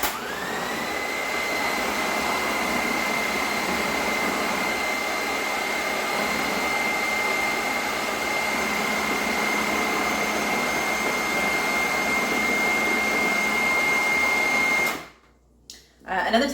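Food processor whizzing roasted red pepper hummus, a loud steady motor whine with a rising pitch at start-up, running continuously for about fifteen seconds before cutting off and briefly restarting.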